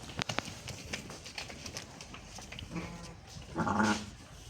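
A pedigree sheep gives two short, quavering bleats close by, one a little louder than the other, over faint farmyard rustling and a few light knocks, with no voices.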